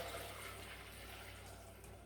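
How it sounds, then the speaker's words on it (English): Homemade kombucha is poured through a colander to strain it, producing a faint, continuous rushing splash of liquid that stays steady for the whole moment. "I'm going to just pour it through a colander and strain it"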